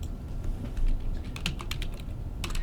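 Rapid clicking keystrokes on a computer keyboard, typed in short irregular bursts at close range, with no voices over it.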